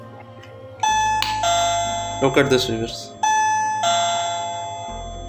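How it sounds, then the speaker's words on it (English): A wireless cordless doorbell rings out a loud electronic ding-dong chime after its button is pressed, repeating in clear, sustained tones, with someone speaking briefly in the middle. "Our doorbell is working now with the help of this button."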